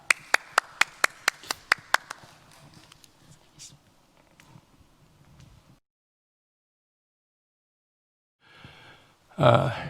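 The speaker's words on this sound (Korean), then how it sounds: "각자 가정에 계시지만 힘찬 박수로 환영해 주시기를 바랍니다" During a Sunday church service, about eight sharp, evenly spaced claps ring out to welcome the pastor. Scattered faint taps follow, then silence, and a voice begins speaking at the very end.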